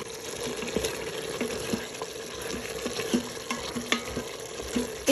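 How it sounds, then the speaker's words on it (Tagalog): Rice with carrots and raisins being stirred in a pot, soft sizzling under repeated light spoon scrapes and taps at an uneven rhythm, fairly quiet and close. "Haluin lang natin."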